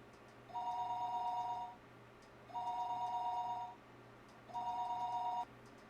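Telephone ringing in a house: three evenly spaced electronic rings, each about a second long, clear but fairly quiet against a low steady hum.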